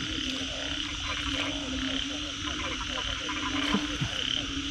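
A loud chorus of big frogs croaking across a rice paddy in heavy rain, dense overlapping calls pulsing steadily over the hiss of rainfall.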